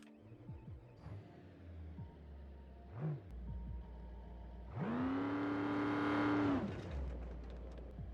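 Engine of a huge Jeep in BeamNG Drive cranking over and catching, then revving up to a loud, rising, sustained roar before dropping back to idle, set against a low background rumble.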